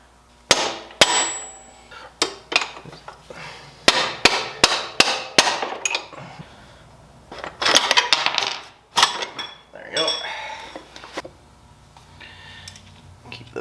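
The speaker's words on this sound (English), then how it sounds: "It's loose, and we're going to tap the axle out." Repeated sharp metallic hammer taps knock the front axle out of a 2004 Honda Rebel CMX250C motorcycle wheel, a dozen or so close, loud strikes in uneven bursts with short pauses between them.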